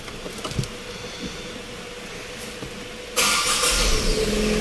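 A Tata Nexon Creative petrol engine idling, then starting up or revving louder near the end, a steady mid engine hum heard from close by with no talk.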